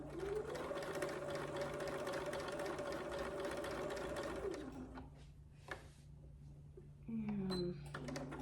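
A sewing machine stitches fabric for a small bird-shaped bag with a steady, close mechanical whir, then runs a brief back stitch before stopping, leaving scattered quiet handling sounds.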